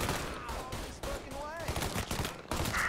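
Rapid gunfire in the video game Mafia III, a dense run of shots and bursts that fills the whole stretch, with game sounds and a voice mixed in underneath.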